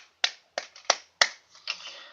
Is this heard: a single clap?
yes